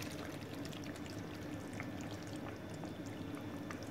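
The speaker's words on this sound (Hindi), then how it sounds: "अब इसके अंदर मैं ये बॉइल्ड पास्ता डाल दूंगी" Boiled pasta is tipped into a pan of thickened salsa sauce that was set with cornflour paste, giving a steady wet pouring and sliding sound, close and constant, with no talking.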